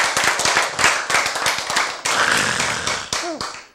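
Rapid, irregular hand claps during a church sermon, close and fairly loud, a steady run of sharp slaps with a short voiced sound near the end.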